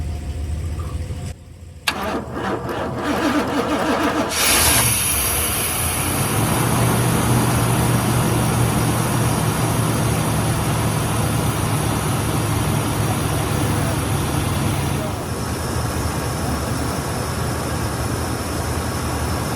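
An engine cranks with a battery charger set to engine boost, a few seconds of churning starter effort, then it catches and settles into a loud, steady idle that runs on alone.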